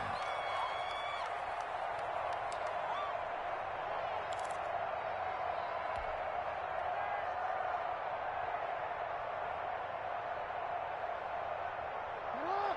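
A large stadium crowd at a football game keeps up a steady, distant murmur and roar, with faint scattered cheers and claps and no sharp peaks.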